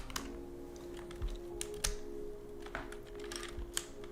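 Quick, irregular clacking of keys on a coffee-soaked computer keyboard, light close-up typing bursts over a faint steady hum, with no voices.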